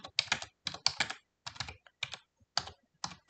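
Quick bursts of close, crisp keystrokes on a computer keyboard, clustered in short rhythmic runs separated by brief pauses, loud and clear against a quiet background while code is written.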